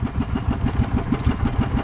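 Fishing boat engine running steadily up close, a loud, rhythmic low chugging pulse with even repeating beats throughout.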